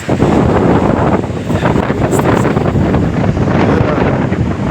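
Strong wind roars and buffets the microphone continuously while cycling a road in Argentina, a loud, steady rumble with no voices.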